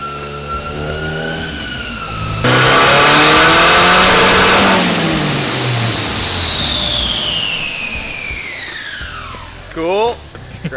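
A boosted project car engine revs hard on a dyno, climbing to a loud sustained roar that sweeps upward before cutting off, followed by a short burst of revving near the end.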